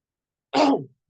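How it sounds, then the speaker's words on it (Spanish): A single short, breathy cough or throat-clear from a person giving a medical lecture, close and fairly loud, preceded and followed by silence. "ahora sí van a disculpar la tos"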